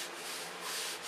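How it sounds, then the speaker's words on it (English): Sandpaper of 320 grit rubs over a wood finish to flatten wrinkles in a second coat, a close, brief steady scratchy hiss that swells slightly and fades. "I'm sanding the wrinkles out of it"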